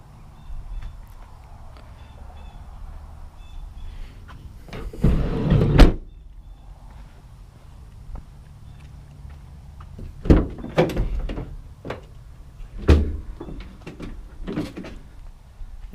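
Doors on a 2016 Ford Transit Connect cargo van opening and closing, with several close, loud thunks and latch clicks spaced out through the clip over a low idle hum.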